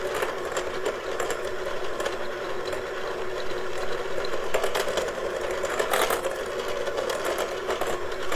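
Electric mixer creaming peanut butter bread batter to work out the lumps, a steady whirring motor hum running continuously with a few brief louder surges, close by and without talk.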